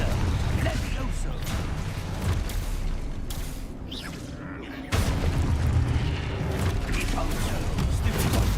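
Explosive Confringo blasting spells from the Hogwarts Legacy video game boom repeatedly over a dense, rumbling battle mix, with a brief quieter lull before the heavy blasts resume.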